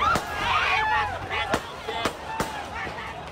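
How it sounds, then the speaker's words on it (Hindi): Several sharp bangs go off one after another amid a noisy crowd with raised, excited voices, sounding like gunshots at some distance. "सांसद पर एक के बाद एक कई गोलियां दागी गई।"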